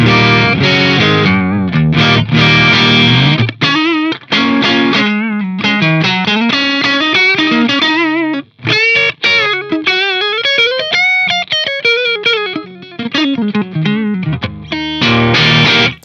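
Loud overdriven electric guitar through a Synergy Syn20IR amp with OS module, playing a melodic lead line with sustained, bending notes and short pauses, played alone.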